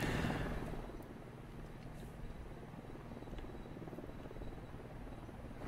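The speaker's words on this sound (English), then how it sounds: "I do not want to mess with that chopper. Can you go away, chopper?" A helicopter in a video game, its rotor throbbing in a steady low drone that stays loud and constant throughout with no talk over it.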